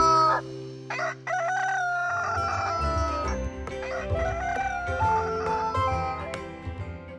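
A rooster crows in a story narration, a bright repeated cock-a-doodle-doo rising over a dense musical backing that fills the clip.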